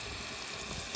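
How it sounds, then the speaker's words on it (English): Water gushes from the cracked housing of a Bauer 2300 PSI electric power washer, a steady, close, broadband hiss and splash with no pauses and no voices. "Water is just pouring out from the housing."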